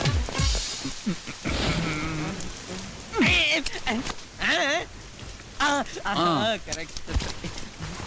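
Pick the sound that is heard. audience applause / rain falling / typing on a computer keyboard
rain falling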